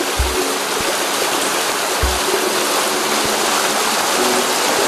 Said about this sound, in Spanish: Ahí escuchamos el murmullo del agua.